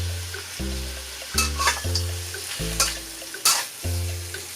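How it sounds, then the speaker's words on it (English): Pork belly browns in a hot wok with a steady, close sizzle and a few sharper spatters and stirring scrapes, with music playing over it throughout. "Add in the pork belly. Stir it around and let it brown on all sides"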